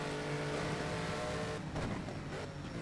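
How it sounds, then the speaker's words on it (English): A GT2 race car in an endurance racing video game passes by, a loud engine drone that rises then drops sharply as it goes past, with a second quick swoosh trailing after. "I can't see what GT2 car that was that just went past"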